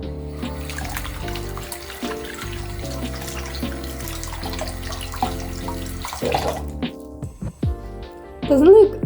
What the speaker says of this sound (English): you're just gonna like wash off all of the soap and give him a good rinse